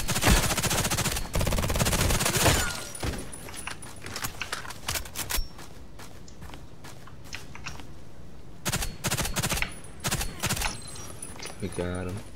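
Bursts of FN P90 fire in the Contract Wars shooter game, fast rattling volleys near and loud, broken up by pauses and short single shots, with a voice talking in places.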